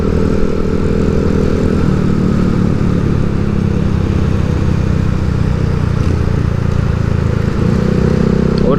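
A 2013 Yamaha Xeon RC scooter-style motorcycle accelerates along a road, its engine a steady, fairly loud drone with a rising pitch near the end, heard close and alone.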